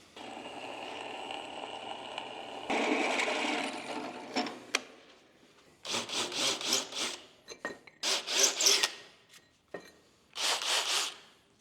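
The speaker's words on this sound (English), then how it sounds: "And so I like to use the countersink just to give a little kiss along the edges" Countersink deburring the edges of hand-forged steel parts for a paper towel stand, with a low steady whir at first, then close, loud bursts of rasping metal cutting separated by short pauses.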